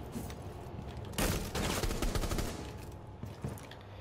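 Rapid automatic gunfire from a weapon in Rainbow Six Siege, played as Thatcher or Sledge, bursts out loud and dense after a quieter opening, with a steady stream of shots tailing into scattered reports.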